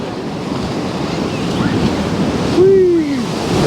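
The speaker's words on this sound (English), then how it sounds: "That's big waves." Big sea waves crash and surge continuously on a windy Paphos shore in November, a loud broad wash with strong wind buffeting the microphone, swelling to a heavier crash near the end.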